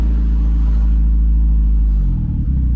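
Deep, steady engine rumble from a turbo wagon on the road during its first drive, recorded from inside the car with a slight shift in pitch near the end and no talking.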